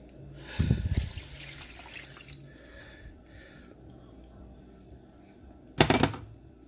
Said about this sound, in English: I'm going to go ahead and add this water in.